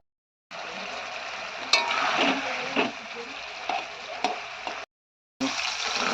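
Rohu fish fry in a shallow layer of oil with a bright, steady sizzle and a few sharp clinks from a utensil. The sizzle cuts out for a moment near the end and then resumes.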